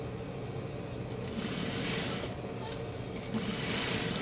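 A sewing machine runs steadily while topstitching a seam on a large shapewear girdle, a continuous close mechanical whir with a fast buzzing rhythm and no talk.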